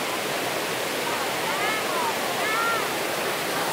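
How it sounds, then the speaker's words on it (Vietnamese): Steady roaring rush of cascading water at the tiered Thác Mây waterfall in Thanh Hoá, a dense continuous wash of white noise with a faint higher tone briefly rising above it. "Những tầng thác ở đây cực kỳ là đẹp, mát mẻ."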